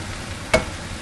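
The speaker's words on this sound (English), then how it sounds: "So, just going to start chopping it, and then we're going to let it cook for a little bit longer again." Ground meat for sloppy joes sizzles in a pan with a faint, steady hiss, punctuated by a single sharp chop of a utensil against the pan.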